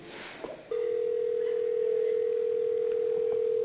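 A mobile phone placing a call at a concert gala gives a loud, steady single-pitch tone that starts abruptly after a brief burst of noise and holds unbroken to the end.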